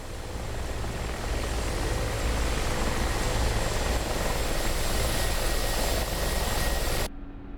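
Mi-24P Hind helicopter engine running in the DCS flight simulator, a loud, steady turbine roar with rotor drone that holds unbroken before cutting off abruptly near the end.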